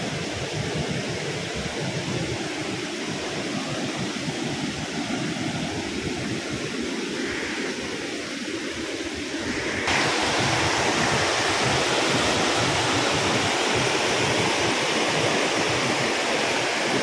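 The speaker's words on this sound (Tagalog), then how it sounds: "So dito ang lakas, oh. Mas nangagos ng tubig." Floodwater rushes over flooded crop fields and across a road, a steady broadband roar of fast-moving water that stays close and constant, growing slightly louder partway through, with no talking.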